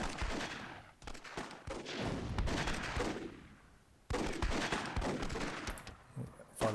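Gunfire in the strategy game Myth II Soulblighter, with a World War II style unit gunning down an enemy: dense, loud bursts of shooting that stop briefly near the middle, then resume just as heavily.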